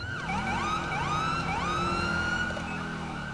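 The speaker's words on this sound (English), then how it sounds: "those sirens are very distracting" Police car sirens in the video game GTA 5, a loud wailing siren sweeping up and down repeatedly with several overlapping tones, continuous and close, no talking.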